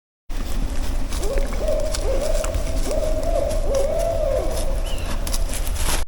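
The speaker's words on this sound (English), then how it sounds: "Great horned owl just hooted." A great horned owl hoots at night in the wilds of northern Ontario, a series of low, soft hoots in a rhythmic sequence carrying clearly over a faint outdoor hush, with no talking.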